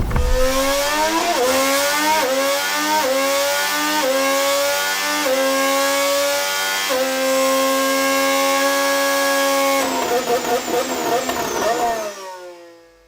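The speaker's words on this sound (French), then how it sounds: "On termine avec le bruit de ce moteur 2026." A high-pitched Formula 1 2026 racing engine screams steadily for several seconds, with a few quick revving shifts near the end before the sound cuts out.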